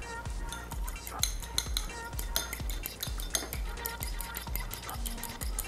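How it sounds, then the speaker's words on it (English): A fork whisks a vinaigrette of oil, vinegar, red chili flakes, salt and a pinch of turmeric in a bowl, giving quick, rhythmic clinking strokes that stay close and steady throughout. "Now, I'm going to whisk this up with my fork."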